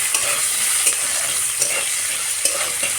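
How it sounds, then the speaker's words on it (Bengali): Potato pieces fry in a pan under a loud, steady hiss while being stirred, with occasional scraping knocks of the spoon, no talking. "এবার দিয়ে দিব সেই টুকরো করে রাখা আলুগুলো একটু আলুগুলোকে ভেজে নেব ভালো করে"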